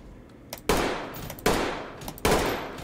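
Rifle gunshots in the tactical shooter Ready or Not, three sharp, loud single shots spaced evenly about three-quarters of a second apart, each with a short decaying tail.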